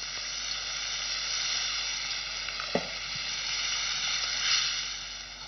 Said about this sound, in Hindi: अब इसके अंदर हम डालेंगे ये प्रॉन्स का स्टॉक